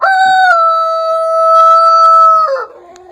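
Rooster giving one loud, close, sustained crow with a steady drawn-out tone that drops and breaks off at the end.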